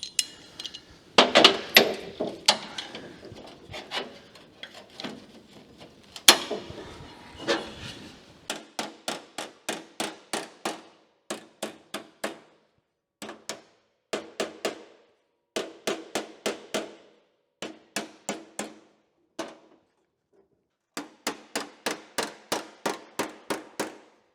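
A hammer shrinking the corner of a rusty car door repair panel, making long runs of sharp, ringing metallic taps in quick rhythmic clusters with short pauses between them, close and loud.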